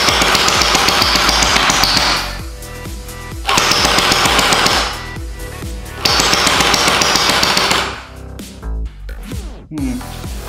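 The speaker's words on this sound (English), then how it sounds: "So I've just flicked over to auto, full auto manic fire. I'll put a few rounds through it" Wells M401 gel ball blaster on full auto, firing three loud rapid bursts of about two seconds each with short gaps, followed by a few scattered clicks and handling noises.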